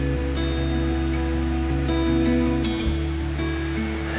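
A river runs past the Otter Pools in a constant, fairly loud wash of flowing water, with faint tonal hum running beneath it.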